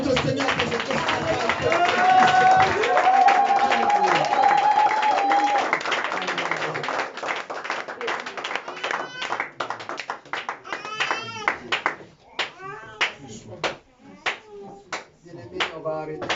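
A church congregation claps and applauds, first under singing and voices, then as scattered, uneven hand claps that thin out into separate bursts of clapping toward the end.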